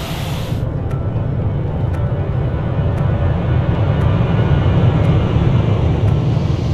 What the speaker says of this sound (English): both engines are running